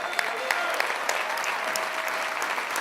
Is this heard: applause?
yes